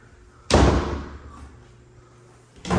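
A double closet door in a house bangs shut with a sharp, loud slam, the boom decaying over about two seconds before a second impact starts at the very end.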